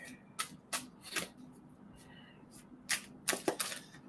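Tarot cards are shuffled for a reading, a string of quick, crisp riffling bursts in short clusters with pauses between them, close and fairly quiet.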